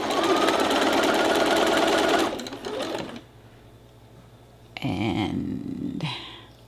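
A sewing machine stitches a fabric pot holder at a small stitch length, with a steady, rapid whir for about two seconds, a quiet pause, then a second shorter burst of stitching, close by with no talking.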